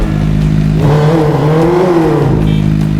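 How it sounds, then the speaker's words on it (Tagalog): Motorcycle engine in GTA 5 revving loudly and alone, rising from a steady idle into a climbing, whirring rev before easing back down. "test drive na natin yung last natin na motor"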